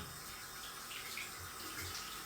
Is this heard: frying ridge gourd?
no